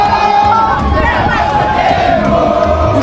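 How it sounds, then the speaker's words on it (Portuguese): Haitian football supporters packed into a stadium crowd at a World Cup match in the USA, a loud, continuous roar of cheering and shouting with dense drumming rhythm underneath, close and unbroken throughout. "esse batuque não é da seleção brasileira"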